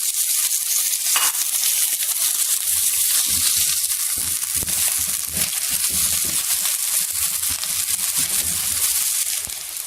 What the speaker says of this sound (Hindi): अभी हम इसमें जो है ना वो जो तीतर है उसको ऐड कर देंगे और उसको करेंगे फ्राई।